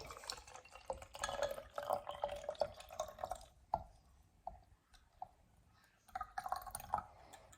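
Water trickles and splashes as it is poured into a lava lamp jar, a close, faint liquid fill in uneven bursts with a short pause partway through.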